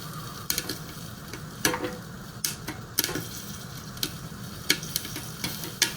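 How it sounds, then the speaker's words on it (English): A Sunbeam popcorn machine pops corn while butter melts in it: sharp, scattered pops crack out irregularly over a soft, continuous sizzling hiss. "But now that the popcorn's going, it does seem to be melting a lot faster."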